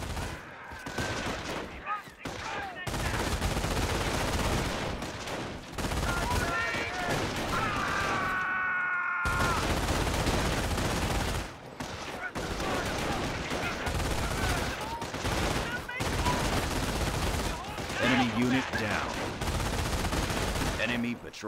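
Squads fire at an enemy patrol in the World War II strategy game Company of Heroes, producing dense, continuous volleys of rifle and machine-gun fire with brief gaps and a rising whine partway through.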